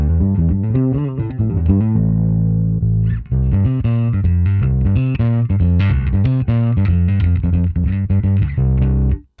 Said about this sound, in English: you can get some pretty neat bass tones